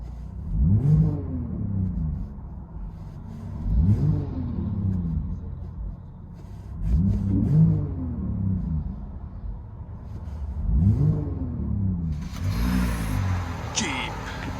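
A 2019 Jeep Grand Cherokee Laredo's 3.6L V6 with Vibrant bottle resonator exhaust, heard from the cabin, revved four times in repeated rising-and-falling swells over a low rumbling idle, with voices talking over it.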